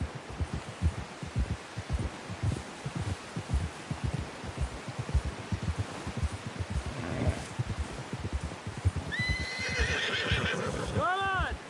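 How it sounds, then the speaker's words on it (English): Steady clip-clop of horse hooves in a rolling rhythm in Red Dead Redemption 2, then a loud, shrill horse whinny near the end, with no voices over it. "Someone help John down off this horse."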